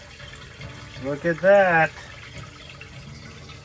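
Water drains into a shower, and the drainage may carry lint. A steady low rush of flowing water runs throughout, partly covered by a short burst of a person speaking.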